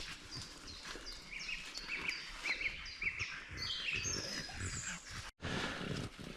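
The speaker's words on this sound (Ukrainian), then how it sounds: "Ох, і гучно птахи співають." Several birds sing and chirp loudly and busily nearby in a forest, overlapping high twittering calls filling an outdoor space, with no talking.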